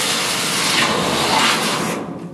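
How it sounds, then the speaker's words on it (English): A drill bores a small hole into an air duct for a duct leakage test, giving a harsh, steady grinding hiss for about two seconds at close range before it stops. "First thing what we're going to do is drill a hole."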